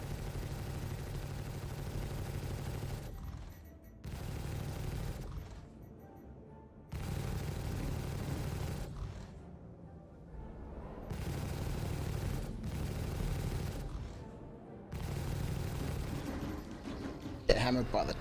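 Turret gunfire in Star Citizen pounds out in long sustained bursts with short gaps between them, a dense loud rattle over an engine-like drone.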